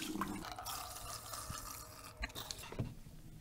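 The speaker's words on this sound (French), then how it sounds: "je vide l'eau qui se trouve autour du flacon" Water is poured from a basin around a flask into a sink during a chemistry experiment, giving a faint, uneven splashing and dripping with small gurgles.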